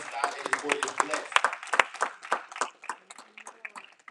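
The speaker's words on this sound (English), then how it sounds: "let's clap your hands and bless God that his word is blessed" A church congregation claps hands together in uneven bursts, many sharp claps overlapping, mixed with voices calling out and talking throughout.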